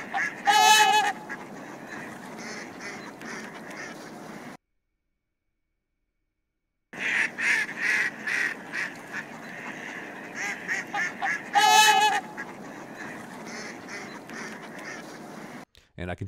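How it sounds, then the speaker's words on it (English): Loud honking goose calls come in bursts, mixed with quacking ducks and other bird calls, broken by a few seconds of complete silence before the calls resume. "the part that I think I'm most interested in is this right here, the loudest part with the goose call"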